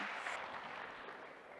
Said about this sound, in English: So please give Lesley a big round of applause.